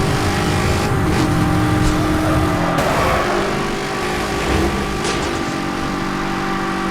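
Bentley engine in Need for Speed: Hot Pursuit (2010), droning steadily at close range through a race with slight shifts in pitch and a brief rise midway, heard alone without voices.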